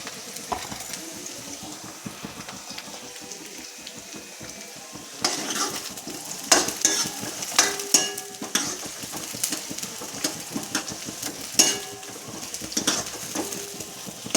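Onions sauté in a pan on a gas stove for a green mung bean sabzi, a soft steady sizzle broken by scraping stirs and sharp clinks of a utensil against the pan.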